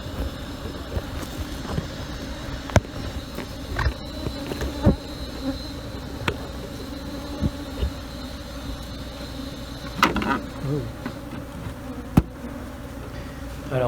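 A steady low buzzing of many honey bees hums close by at a nest being smoked out, with occasional sharp clicks and knocks breaking through.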